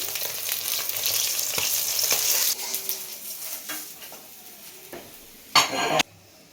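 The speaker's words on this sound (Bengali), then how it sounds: "গোটা গরম মশলা তেজপাতা এগুলো আমি ফাটিয়ে দিয়েছি" Hot oil sizzles and crackles softly as whole garam masala spices and bay leaves fry, with a few sharp pops and a brief louder burst of spattering near the end, plus faint utensil clinks.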